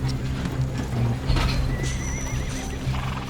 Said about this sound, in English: Matt's first job is to load the horses.